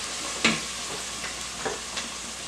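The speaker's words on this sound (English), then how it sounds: "in the beginning, you need to stir it a lot" Gluten-free pasta is stirred in a pot, a soft watery swishing with a few faint clinks of the utensil against the side, quiet and close, with no speech.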